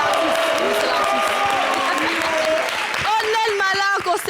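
Audience applause from a live concert crowd, a dense wash of clapping mixed with cheering and voices, with people talking loudly over it throughout.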